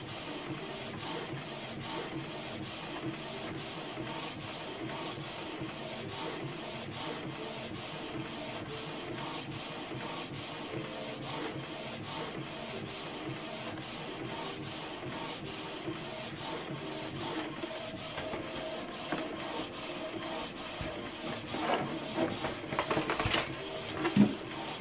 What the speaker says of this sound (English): There we go, it's printing.